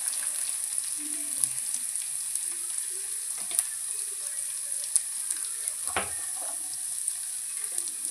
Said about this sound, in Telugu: ఇలా వేపుకోవాలి. చిటికెడు పసుపు